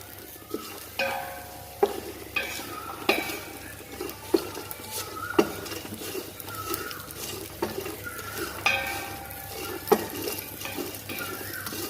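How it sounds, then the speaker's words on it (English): Ajwain and fennel seeds dry-roast in a pan for a no-chilli white kurma, stirred with a utensil that clinks against the metal in irregular taps over a soft, steady patter, close and fairly quiet with no talking. "Okay, now I can see that they are getting roasted"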